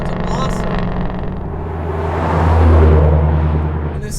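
A Hennessey Venom 1000 package Ford Mustang GT500 with 1,000 horsepower and a flex fuel tune during final testing, its engine rumbling loud and close, swelling to a deep roar midway before easing off.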